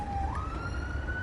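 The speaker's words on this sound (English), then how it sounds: "Oops, fire engine." A fire engine siren in the Train Sim World 5 railway game wails steadily, its tone sliding upward into a sustained high note, clear and fairly close against a low rumbling background.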